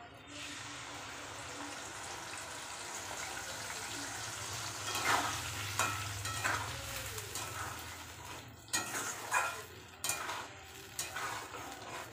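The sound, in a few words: spice paste frying with tomato, chilli, garlic, ginger, onion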